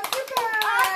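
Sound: applause, hands clapping

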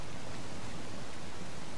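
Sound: waterfall in the video game Uncharted: The Lost Legacy

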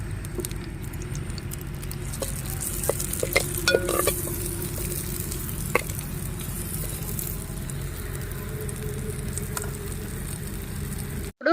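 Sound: chopped onions frying in oil

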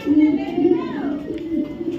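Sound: male racing pigeon cooing

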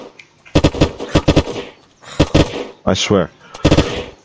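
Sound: gunfire in a video game, hip firing

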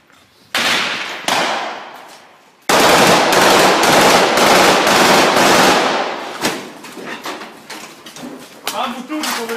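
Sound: gunfire in combat

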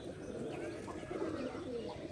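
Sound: pigeons cooing

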